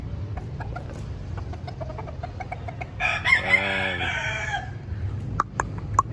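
At a new chicken pen, a rooster gives one full crow at mid-distance, among scattered soft clucks and clicks from other chickens, and someone briefly says a word.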